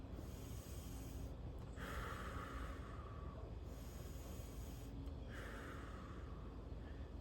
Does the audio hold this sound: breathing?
yes